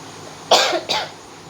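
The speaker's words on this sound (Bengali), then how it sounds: "কাশি আছে মাঝে মাঝে হয়তো কাশতে হবে" Two quick, harsh coughs close to the microphone from a person who is ill and weak, the second slightly softer, then quiet.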